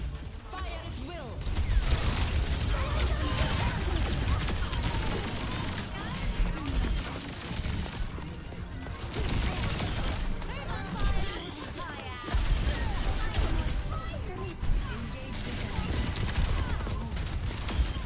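Dense, continuous gunfire and crashing explosions from an Overwatch 2 match, loud bursts and rapid fusillades layered over each other almost without pause, with voices talking underneath.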